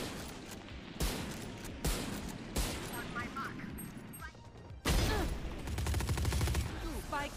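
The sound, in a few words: gunfire in a video game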